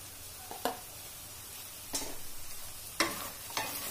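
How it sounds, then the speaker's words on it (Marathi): Ground onion, garlic and coconut masala frying in oil in a pan for misal, a steady low sizzle broken by several sharp scrapes and clacks of a spoon stirring against the metal. "आता मी याच्यामध्ये वाटलेला मसाला टाकत आहे"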